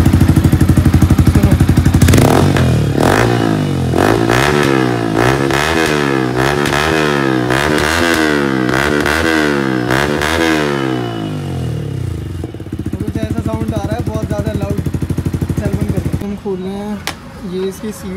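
A Yamaha R15 V3 sport bike fitted with an Akrapovic aftermarket exhaust revs hard and loud, its engine climbing and dropping in a rapid series of throttle blips, then settling to a rough, popping idle with a brief clatter near the end.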